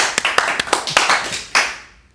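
Hands clap several times in an irregular burst, sharp close claps to trigger a clap-activated gadget, the last one followed by a short fade.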